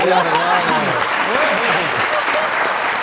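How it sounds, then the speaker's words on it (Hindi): Studio audience applause on a comedy talk show, a dense steady roar of clapping that runs the whole time, with voices calling and talking over it. "इनकी सोच के लिए जरा तालियां।"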